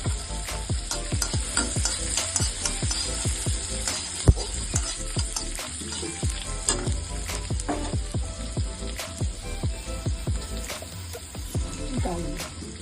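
Onions sizzling and frying in a pan for butter garlic mushrooms, a steady loud crackle with frequent sharp stirring scrapes throughout, no talk.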